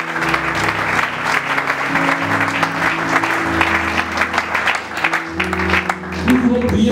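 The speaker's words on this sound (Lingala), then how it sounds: "est-ce qu'on peut acclamer pour les gens?" Congregation applauding at a church prayer gathering, steady dense clapping across the whole stretch, with tonal music or voices running underneath throughout.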